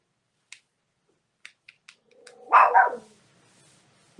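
A few faint ticks and clicks, then a dog gives two quick loud barks close by, followed by quiet.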